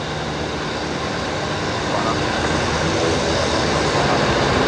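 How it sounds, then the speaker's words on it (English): A Qantas jet airliner touches down at Brisbane Airport, its broad engine roar and rushing wind noise steady and rising slightly toward the end, heard from a distance outdoors. "Here we go, Qantas 600 touching down now."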